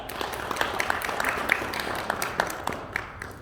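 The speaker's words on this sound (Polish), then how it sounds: "I brawa dla Oskarka." Applause from an audience at a primary school pledge ceremony greeting a first-year pupil, a steady patter of many hands clapping at moderate distance, continuous through the moment with no speech over it.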